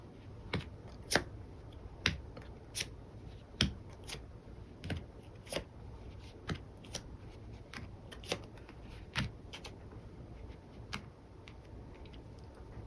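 Tarot cards being shuffled and handled, giving a run of crisp, separate riffs and flicks roughly once a second, fairly quiet and close, with no voices.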